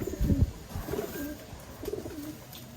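Pet birds kept as a breeding pair give soft, low cooing calls in a few short bursts, close and fairly quiet over faint background noise.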